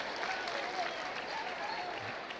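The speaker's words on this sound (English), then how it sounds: "So the crowd gives Mason a big round of applause as he comes out." Crowd at a high school basketball game applauding a Middletown Knights player as he leaves after fouling out, a steady spread of clapping under a commentator's voice.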